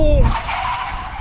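An Audi RS6 Performance braking hard from 100 mph in a brake test, tires skidding and roaring loudly and continuously for about a second.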